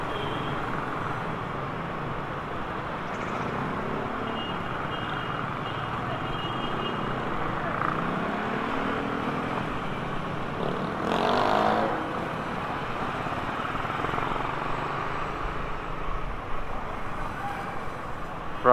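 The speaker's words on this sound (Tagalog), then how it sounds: "Uy, lupit ng traffic." Heavy road traffic heard from a moving motorbike: a steady, dense roar of nearby cars, trucks and buses with engine drone throughout, swelling briefly as a vehicle passes close by.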